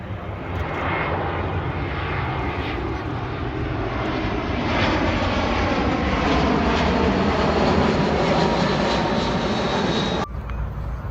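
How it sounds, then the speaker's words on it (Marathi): An airplane flies overhead, its engine roar loud and steady as it swells to a peak and then cuts off abruptly near the end, with no talking over it. "तर बघू शकता विमान तुम्ही"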